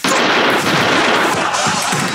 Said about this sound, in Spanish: que solo han sido ocho tiros